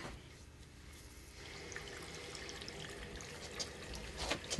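Faint, steady rushing and trickling of water flowing through a reverse osmosis filter system's pipes as the water is turned back on, slightly swelling toward the end.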